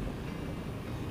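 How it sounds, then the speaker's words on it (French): A 2019 KTM 690 SMCR supermoto engine lugging below 70 in sixth gear with a knocking condition, heard as a loud, steady low rumble mixed with broad wind rush throughout. "la moto va cogner assez fort"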